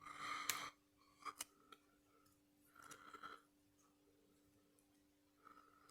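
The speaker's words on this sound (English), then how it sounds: "I'm using nail scissors to remove them" Nail scissors snipping a painted plastic canopy part off the sprue of a 1/72 Focke Wulf FW 190 A-8 model kit: a sharp cut, a pair of quick clicks, then softer snips spaced apart, close to the mic.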